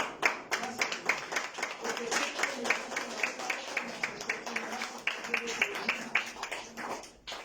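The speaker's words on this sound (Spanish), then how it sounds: "¿Cuántos le dan un aplauso al Señor?" A church congregation claps together in a steady, rhythmic round of applause filling the room, with a voice faintly heard over it.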